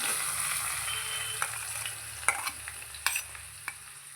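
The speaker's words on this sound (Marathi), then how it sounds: "फोडणीसाठी मी इथं दीड चमचे तेल ॲड केलेलं आहे तर आपण ह्यातला कांदा घालूया आणि टोमॅटो घालूया" Onion and tomato fry in about one and a half spoons of oil for a tempering, giving a soft steady sizzle, then a few sharp spatula clicks and scrapes against the pan toward the end.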